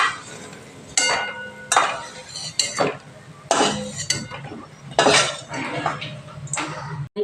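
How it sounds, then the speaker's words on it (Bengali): Metal utensils clink and scrape against a pan while fried lentil fritters are lifted one by one out of hot oil, sharp taps recurring every second or so over a soft background. "এবার এই বড়াগুলো এক এক করে তেল থেকে তুলে নিচ্ছি।"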